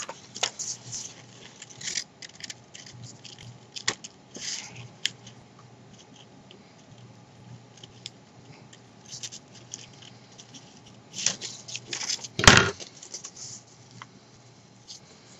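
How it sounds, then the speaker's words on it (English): Scissors snip through paper while cutting out a paper dragon illusion, producing scattered short crisp cuts and rustles with a louder burst of handling noise near the end. "Need to make another cut along this area there."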